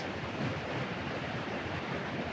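Waterfall heard as a steady broadband rush of falling water, continuous and fairly soft with no other sounds over it.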